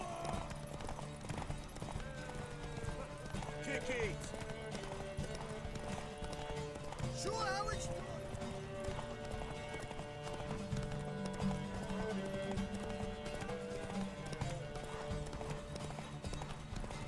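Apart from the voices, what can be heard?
horse hooves galloping, from video game The Witcher 3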